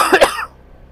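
A person coughs close by during a short motorcycle ride, a quick burst of two or three harsh coughs lasting about half a second, followed by quiet background.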